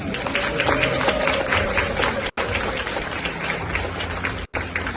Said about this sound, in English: So please let us all please welcome and give a round of applause.